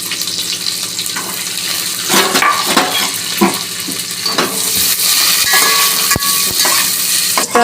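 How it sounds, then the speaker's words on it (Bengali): Cashews frying in ghee in a pan for a basanti pulao: a loud, steady, close sizzle with occasional scraping and stirring knocks, no voices. "এখন আমি কাজু একসঙ্গে ভেজে নেব।"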